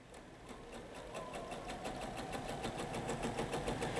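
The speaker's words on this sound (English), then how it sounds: "I'm going to start sewing, so I will be sewing on that diagonal line" A sewing machine stitches a quilt binding along a diagonal line, its needle driving in a fast, even mechanical rhythm that stays close and steady and builds slightly louder as it runs.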